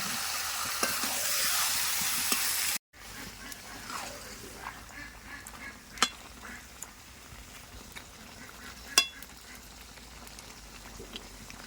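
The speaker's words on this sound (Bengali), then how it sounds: "তো ঢাকাটা খুলে সব নেড়ে দিলাম একবার ভালো করে" Chicken and potato curry stirred in a pot after the lid comes off: a loud hiss at first cuts out abruptly, followed by quieter bubbling and sizzling with occasional sharp spoon clinks against the pot.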